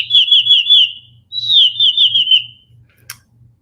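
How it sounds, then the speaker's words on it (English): A bright, warbling electronic chirp from a timer alarm repeats in two quick bursts, like a synthetic birdsong alarm, with a soft low pulsing underneath and a short click at the end. "The alarm sound that I'll be using sounds like a bird."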